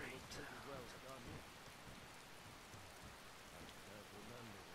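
Steady rainfall with a weather mod in Skyrim, constant hiss of drops hitting surfaces throughout, with a low rumble and muffled voice-like sounds underneath.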